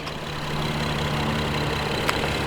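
Steady idle of a 3.5-liter V6 in a 2015 Acura RDX front-wheel-drive SUV, a continuous low engine hum with a faint tick near the end, heard alone.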